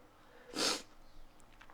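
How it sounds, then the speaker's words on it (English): A single short, sharp nasal sniff from allergy sniffles stands out from near silence, close and brief. "I've got the sniffles a little bit"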